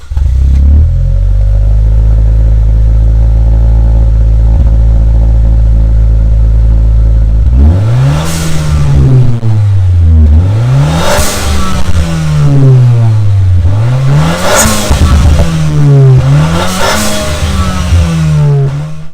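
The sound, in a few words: Nissan Juke engine revving through aftermarket exhaust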